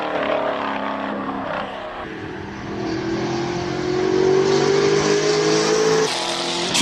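A race car climbs a hill climb course at Cape Town's Speed Classic, its engine note rising steadily as it accelerates hard, loud and close, with a brief shift near the start and no voices over it.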